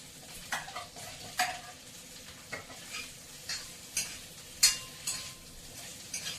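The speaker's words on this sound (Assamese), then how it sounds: "আগে কচুখিনি অকণমান আধা সিজাকে ভাজি লওঁ" Pieces of taro fry in a pan over a soft, steady sizzle, with a spoon scraping and stirring at a regular pace about every half second, close by.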